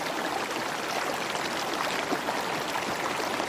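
Running river water beneath an industrial cannon foundry site, a steady broadband rush that holds even and unbroken throughout at moderate distance, with no voices.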